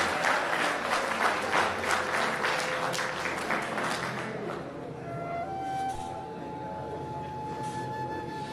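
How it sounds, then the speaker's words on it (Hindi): An audience at a poetry recital breaks into loud, dense applause that fades after about four seconds, leaving a quieter room with a faint sustained tone. "एक बार भरपूर तालियां बजा देंगे।"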